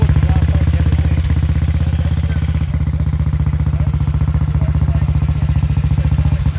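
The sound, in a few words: motorcycle engine running at a British motorcycle meet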